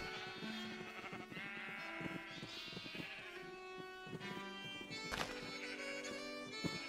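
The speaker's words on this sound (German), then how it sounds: "So viele Schafe." Sheep bleat repeatedly in Minecraft, several overlapping calls layered over a busy game background with music-like tones, moderately loud and close throughout.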